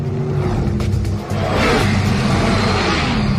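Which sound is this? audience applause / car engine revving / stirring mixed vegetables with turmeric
car engine revving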